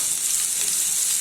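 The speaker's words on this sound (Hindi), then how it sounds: "अभी इसमें कटे हुए ऑनियन ऐड कर देते हैं और मिक्स कर लेते हैं।" Chopped onions being stirred into oil in a pan for mutton keema, with a steady bright sizzle and a soft scrape, loud and close, over a short stretch.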